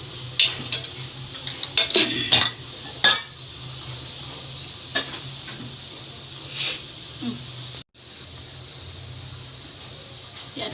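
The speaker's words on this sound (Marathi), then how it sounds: "इथे मी एक कढई घेतलेली आहे आणि त्याच्यामध्ये एक चमच्यावर तेल टाकत आहे" A spoonful of oil heats in a kadhai, giving a soft, steady sizzle and hiss with a few sharp metallic clinks of a spoon against the pan early on.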